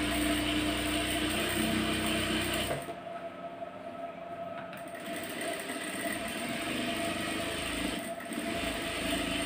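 A sewing machine double-stitches a shape belt with a loud, continuous mechanical whirr and clatter, pausing briefly in the middle before running on steadily.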